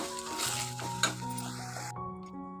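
Leafy greens sizzle and fry in a pan while being stirred for a rice sambar lunch, a steady close hiss with a brief sharper burst midway, no talking.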